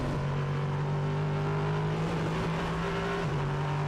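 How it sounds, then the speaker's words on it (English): Duqueine prototype race car at Hockenheimring, its engine roaring steadily and loudly throughout with a sustained droning tone that shifts pitch slightly, alone with no talk. "we listen to the roar of that wonderful engine"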